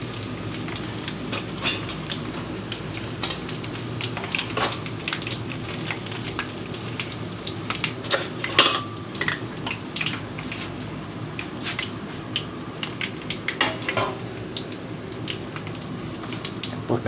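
Fried chicken cooking in buttered garlic in a pan gives a steady, close sizzle with scattered crackles and pops throughout, with no talking.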